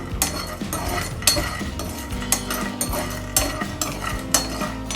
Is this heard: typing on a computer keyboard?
no